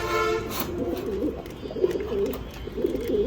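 Fancy pigeons coo repeatedly in soft, low throaty phrases, several birds overlapping close by with a steady background hum.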